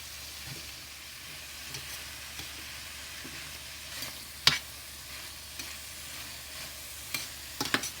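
Okra stir-frying in a pan for a fish and vegetable stir fry, a steady close sizzle with scattered sharp clicks and scrapes of stirring, no talk.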